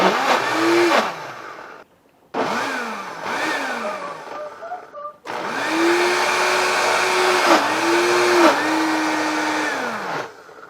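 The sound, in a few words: blender blending carrot cake batter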